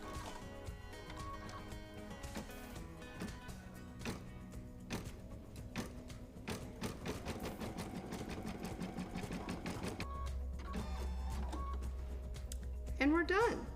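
An embroidery machine stitches a design with a busy, rapid mechanical clatter and whir running continuously, partly under background music and a voice.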